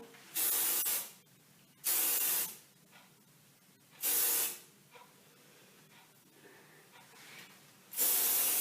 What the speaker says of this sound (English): I use a lot of hairspray when I have to